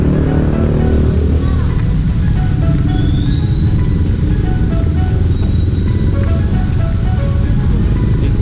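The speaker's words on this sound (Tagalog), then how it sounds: "Traffic." Steady road traffic on a highway near the Naik boundary at night, cars and motorcycles passing as a continuous loud engine and tyre rumble with no clear gaps.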